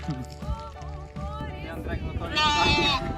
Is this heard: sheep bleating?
yes